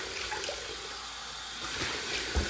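Warm water runs steadily from a bathroom sink tap in a continuous, even hiss that stays level throughout, with a faint clunk near the end and no talking.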